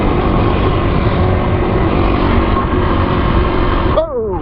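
A Husqvarna TE250 motorcycle rides along a rough road with a steady, loud engine drone and heavy wind rush that carries on throughout, and the engine pitch sweeps upward near the end.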